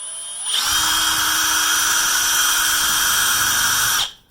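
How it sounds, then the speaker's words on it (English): A power drill bores a small pilot hole into a wall while a TV is being hung: a loud, steady high-pitched whine starts abruptly, holds for about three and a half seconds, then spins down, with no talk. "If it's too tight, then I'll use a slightly bigger bit to make the hole just a little bit wider so that it's easier to drive in."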